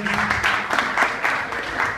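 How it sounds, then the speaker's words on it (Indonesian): An open mic comedy crowd applauds in a dense, moderate wash of claps with a faint rhythmic pulse, a voice briefly audible beneath at the start. "Boleh tepuk tangan dulu untuk kalian semua yang ada di sini"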